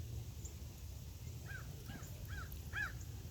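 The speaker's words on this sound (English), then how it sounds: "There's some crows." Four harsh caws from a crow ring out in quick succession at mid-distance, over a low steady background rumble.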